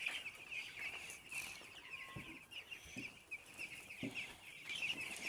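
Chickens on a poultry farm of about seven hundred birds cluck in short scattered calls over a constant high whirring background, faint and somewhat distant.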